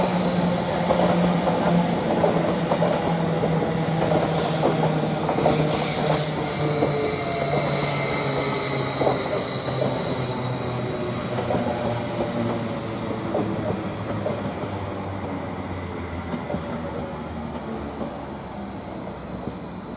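At Chelmsford station, a train on the platform sends out a long rumbling roll with wheel squeal and clicking rail noise, gradually easing as it settles, heard from a moderate distance without talk.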